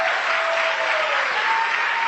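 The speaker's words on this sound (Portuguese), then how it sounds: "vamos aplaudir o Senhor Jesus." A church congregation applauds together in a dense, continuous wash of clapping that stays even and loud from start to finish, while a faint sustained tone hums beneath it.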